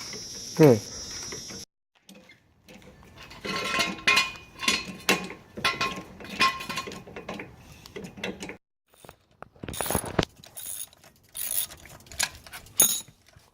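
Lug nuts on a car wheel being spun off and threaded back on by hand with a wrench, giving bursts of clicking, ratcheting metal turns separated by short pauses, close up and alone.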